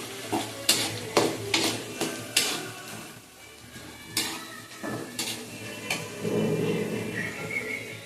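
Green chillies and onions frying in a pan for a young goat curry, with a steady sizzle under repeated sharp clinks and scrapes of a spoon stirring against the pan, close and fairly loud.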